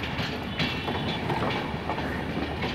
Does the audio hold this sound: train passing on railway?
yes